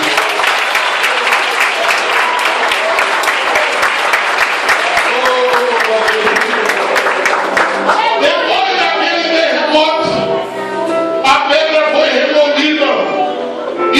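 Sustained applause fills the space, with a voice talking over it as the clapping carries on and thins near the end.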